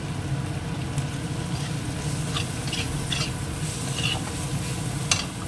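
Fish frying in hot oil after chilli powder, salt and turmeric go in, giving a steady, close sizzle with a few brief stirring scrapes throughout and no voices.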